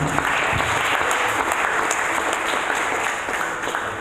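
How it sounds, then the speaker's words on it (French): Steady, full applause from a church congregation at a worship session, a continuous roar of clapping hands held at the same level throughout. "Applaudis pour le Seigneur"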